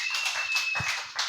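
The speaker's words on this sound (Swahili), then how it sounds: "Tupigie Yesu makofi mazuri." Congregation clapping for Jesus in a church service, with rhythmic, fairly dense hand claps repeating steadily across the moment at moderate volume.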